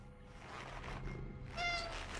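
A single short cat meow in a spooky Christmas-themed video game, faint and close, rising out of a quiet low background drone near the end.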